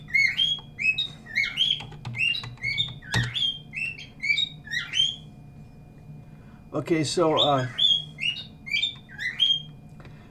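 A pet bird indoors chirps in quick repeated tweets through most of the stretch, with a harsher squawking burst midway, while someone speaks briefly.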